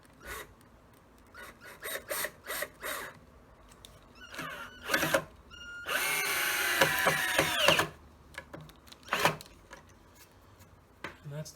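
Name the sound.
screws driven through wood with power drill, no pre-drilling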